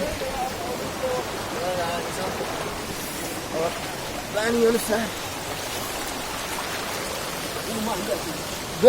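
A river stream flows near a hiking trail, a steady broadband rush of water heard throughout, with people talking over it.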